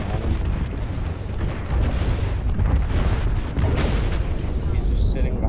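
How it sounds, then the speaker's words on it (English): Air strike in a shooter video game, a continuous barrage of heavy booming explosions and rumbling blasts, loud and dense for several seconds. "There is an air strike on our position."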